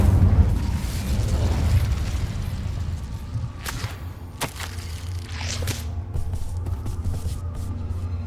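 An Incendio fire spell cast in Hogwarts Legacy, heard as a loud low rumbling blast with whooshing bursts and crackling flame pops over a sustained roar of game sound.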